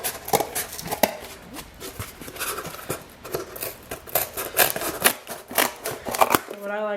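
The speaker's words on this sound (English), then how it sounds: "So you're going to take your scissors and you're going to begin" Scissors snip through cardboard while cutting out a shape for a DIY summer sign, giving a run of close, irregular crisp cuts and rustles with intermittent talking over them.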